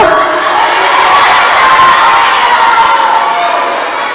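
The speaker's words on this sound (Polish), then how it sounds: "Tak głośno krzyczycie, że nie słyszę." A crowd of children at a school celebration shouts and cheers loudly and continuously, a dense wall of young voices that fades slightly near the end.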